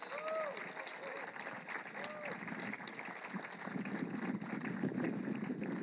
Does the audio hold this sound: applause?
yes